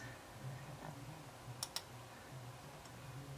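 Two quick computer mouse clicks land close together against a quiet room hum while shapes are copied and pasted in Cricut design software.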